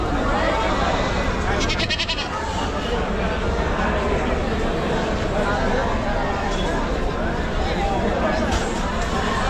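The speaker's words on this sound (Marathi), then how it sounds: "काठेवाडीच्या शेळ्या आहेत." Kathiawadi and mixed-breed goats bleat at a large goat and sheep market in Chakan, Maharashtra, their cries rising over a dense, loud crowd murmur and nearby chatter.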